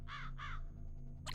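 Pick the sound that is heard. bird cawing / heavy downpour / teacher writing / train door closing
bird cawing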